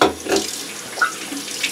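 Hot water runs from a bathroom tap into a sink, a close, steady splashing stream for a couple of seconds.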